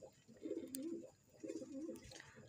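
Multani pigeons in Multan coo softly, with two faint, rolling coo phrases in quick succession and no voices.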